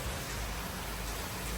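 Steady heavy rain falls at night outside a home's parking area during the first monsoon season, a dense, continuous wash of drops with no pauses.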